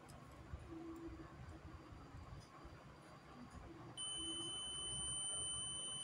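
A multimeter set to continuity mode sounds a steady electronic buzzer tone during testing of a part from a 30-watt LED bulb under repair. The tone comes in partway through and holds to the end over faint background hum.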